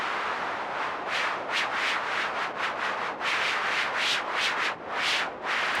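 A VPS Avenger 2 synth preset produces a breathy, wind-like noise that swells and fades in rapid, regular pulses driven by an LFO. It is continuous and moderately loud, with no voices.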